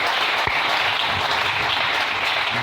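A church congregation breaks into loud, steady applause with some cheering, a continuous close wash of clapping hands.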